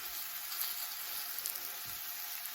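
Food browns in a hot pan, a steady, close sizzle of frying with a soft continuous hiss and faint crackles, heard alone without talk.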